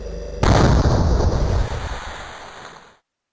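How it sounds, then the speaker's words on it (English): A booming explosion effect representing the Big Bang hits suddenly with a loud broad roar, then rumbles and fades away over about two seconds, alone without talk. "The Big Bang."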